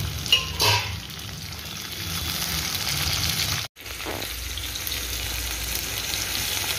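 Tomatoes fry with onions in a pan for a pointed gourd and prawn dish, making a steady moderate sizzle with a few stirring scrapes and one brief break partway through.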